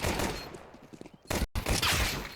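Gunfire bursts from an esports match of a tactical shooter, a loud volley near the start and heavier rapid shots after a brief cut, with crowd-like noise beneath.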